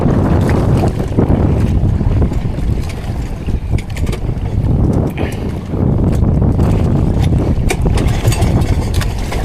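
A small fishing boat's engine drones steadily out on a rough Pacific Ocean, its low rumble mixed with heavy wind buffeting and splashing waves, continuous and loud throughout with no one speaking.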